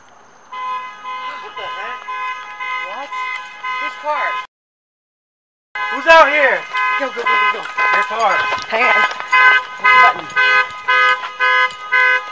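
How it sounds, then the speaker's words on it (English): Car alarm blaring outside a mausoleum on Halloween night, a loud repeating electronic pattern that cuts out briefly and then resumes, with voices talking over it. "My car was going off, the alarm."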